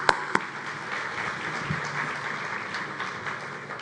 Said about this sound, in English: One more round of applause for Susan